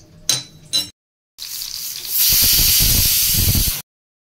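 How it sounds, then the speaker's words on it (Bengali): Chopped onion and capsicum frying in hot oil give off a loud, steady hiss that starts after a few short clattering knocks and a brief pause, then sizzles evenly for a couple of seconds before stopping. "এই যে পেঁয়াজ আর ক্যাপসিকামটা তেলের মধ্যে ভাজছি"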